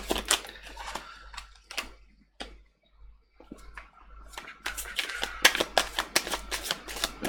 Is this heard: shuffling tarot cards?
yes